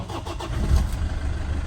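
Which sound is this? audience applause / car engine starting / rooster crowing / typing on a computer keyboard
car engine starting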